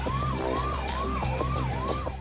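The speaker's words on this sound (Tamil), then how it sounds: "திருச்சியிலிருந்து 110 கிலோமீட்டர் வேகத்தில் சீறியது ஒரு ஆம்புலன்ஸ்." An ambulance siren wails at speed on a highway run from Trichy toward Coimbatore, its rising-and-falling tone repeating in steady cycles, loud and close with road rumble beneath.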